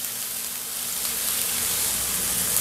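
Chopped large onion sautéing in a frying pan with garlic, a steady soft sizzle and crackle running continuously and evenly at close range, with no talking.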